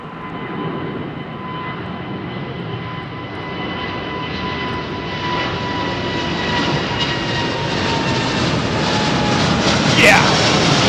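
A jet airliner departs Heathrow runway 09R with a broad, steady engine roar that slowly builds in loudness from a distance, while people talk nearby.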